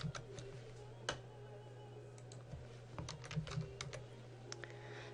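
Keys clatter on a computer keyboard as a surname is entered in capital letters into an Opera PMS hotel reservation screen, quick irregular taps, faint and close, over a low steady hum, with no talk.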